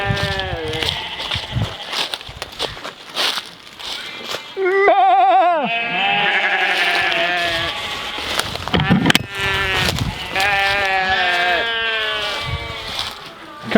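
Several sheep bleat loudly and overlap, wavering cries rising and falling, with a person's voice occasionally heard between them and a buzz of insects.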